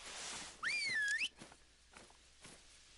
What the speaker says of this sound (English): Whistle so he aggroes.